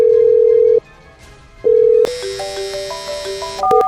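A telephone rings unanswered with two steady electronic tones separated by a pause, then a stepped, melodic ringtone pattern plays on, fairly loud and with no one speaking.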